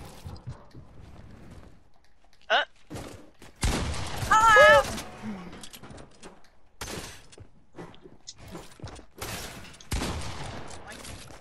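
Gunfire in the video game Fortnite sounds in short bursts of sharp shots with mechanical clicks in between, mixed under excited talk from a player.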